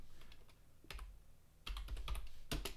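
Keystrokes on a computer keyboard as chord names are typed, soft and close, in a few quick bursts separated by short pauses.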